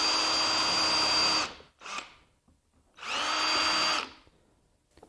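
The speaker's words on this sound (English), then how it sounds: "now we can drill these 4 holes" A power drill makes a starter hole in a wooden cabinet leg, whirring loudly in two close bursts, each winding up and spinning down, separated by a brief pause and a short blip.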